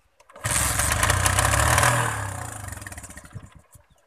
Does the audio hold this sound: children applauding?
no